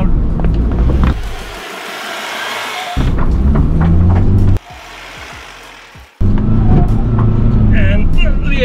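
A 2021 Force Gurkha SUV engine revs hard while climbing out of an off-road incline, a loud rumbling roar that surges and drops in bursts, with wind buffeting and a person talking.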